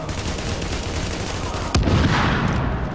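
Gunfire in The Division video game: steady dense rattle of shots throughout, then a sharp loud report near the end followed by a heavier burst, with no talking.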